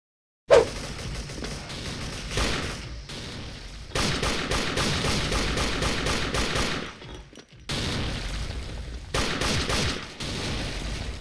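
Rapid, heavy gunfire in the Special Force online shooter, long sustained automatic bursts that fill most of the stretch, broken by a couple of short pauses, loud and close with no talking.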